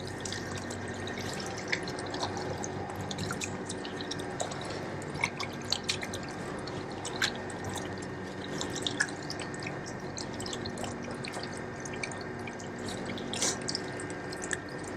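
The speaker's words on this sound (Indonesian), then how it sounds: "Kita basuh dengan air mengalir lagi." Steady running tap water splashes continuously over hands being rinsed, with scattered small drips and splashes over the flow and no talking.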